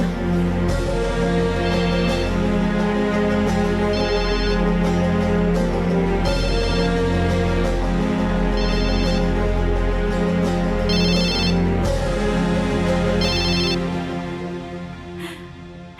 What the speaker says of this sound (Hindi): लगता है किसी की कॉल आ रही है,